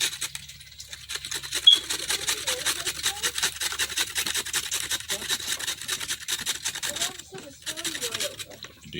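Vegetables, carrots among them, are rubbed against a handheld grater for coleslaw, giving a steady rhythmic rasping that runs for several seconds under occasional speech.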